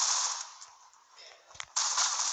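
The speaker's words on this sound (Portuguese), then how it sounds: "só vi quando os gajos começaram a dar tiros" Gunfire in the Critical Ops mobile shooter, a few short bursts and cracks amid a steady bright game hiss, with a louder burst near the end.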